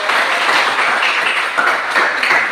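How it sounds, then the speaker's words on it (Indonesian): A classroom of students applauds a group's presentation, loud and dense continuous clapping filling the room close by for the whole stretch, with no talking over it. "Baik, berikan tepuk tangan untuk kelompok."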